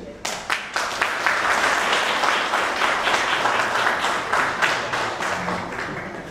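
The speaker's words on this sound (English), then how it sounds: "I got a round of applause for Dr.Piangdin" An audience at a public statement event in Bellflower, California gives a round of applause for Dr. Piangdin, opening with a few separate claps before swelling into steady, close, sustained clapping.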